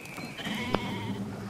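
Sheep bleat in Brothers: A Tale of Two Sons, a short bleat-like call standing out over a steady game soundscape with music, one sharp click partway through, no talking.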